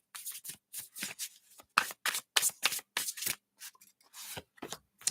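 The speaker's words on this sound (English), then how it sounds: "Let's give them a shuffle." A deck of Ask Your Guides oracle cards is shuffled by hand close to the microphone, with a quick series of crisp riffling bursts and short pauses.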